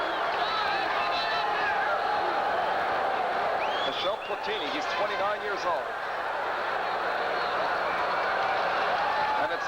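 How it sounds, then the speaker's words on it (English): A stadium crowd at a Juventus versus New York Cosmos NASL match chants "Juve" as a steady, distant roar with rising voiced swells, while a commentator talks over it. "The crowd with the chant of defense."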